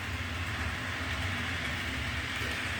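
An Athearn EMD GP38-2 model locomotive runs on track, giving a steady close rumbling whir with a continuous hiss and no breaks.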